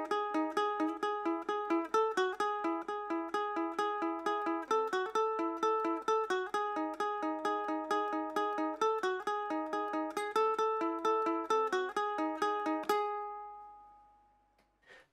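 Ukulele playing the full Loki opening theme, a steady stream of bright plucked notes and chords in an even rhythm, close and clear, ending on a sustained chord that rings out and fades.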